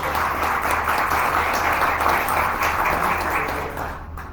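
A round of applause from the audience at a press conference for a soccer world championship, steady dense clapping that holds for several seconds, then begins to fade toward the end.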